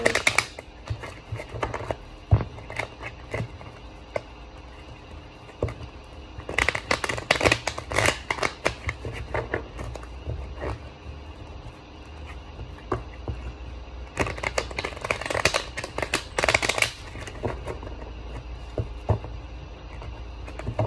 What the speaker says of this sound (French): on va prendre encore ce petit oracle et on va faire un tirage